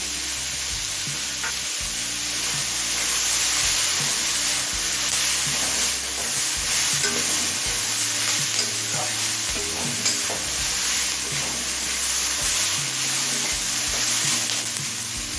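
Shredded cabbage stir-fried in a hot wok for mixed chow mein, a steady loud sizzle with rhythmic scraping and tossing of the spatula throughout, no voices.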